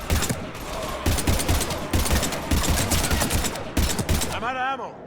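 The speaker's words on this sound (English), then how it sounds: "Shoot him!" Heavy gunfire in the sci-fi shooter Mass Effect 3, loud rapid bursts of automatic shots in quick succession during combat, with brief game voice sounds mixed in near the end.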